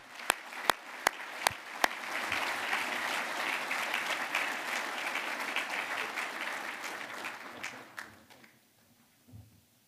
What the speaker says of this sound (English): I'd like a big round of applause to welcome John to the stage with Linda,